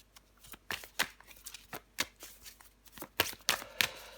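A deck of tarot cards being shuffled up close, with a quick run of crisp riffling flicks and soft slaps repeating at an irregular pace, with no talk.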